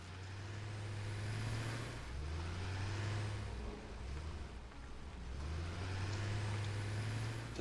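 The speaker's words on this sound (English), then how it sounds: "And quickly before the truck runs us over." A truck in the video game Satisfactory drives past, its low engine drone rising and falling in a few steady passes, fairly loud and continuous with no talk over it.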